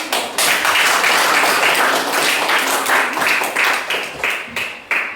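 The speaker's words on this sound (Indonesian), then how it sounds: "Oke, tepuk tangan" Loud, dense hand clapping from a group fills the room for about five seconds, tapering slightly toward the end.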